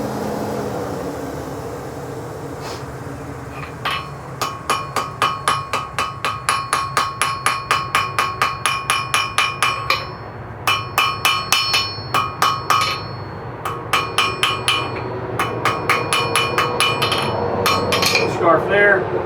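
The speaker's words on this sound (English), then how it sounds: "For that, I like using my smaller hammer." A small hammer strikes heat-forged nails on an anvil in rapid ringing bursts, sharp metallic blows repeated in quick runs with short pauses between them over a low background hum.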